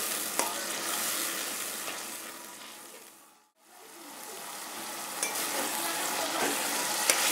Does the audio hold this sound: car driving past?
no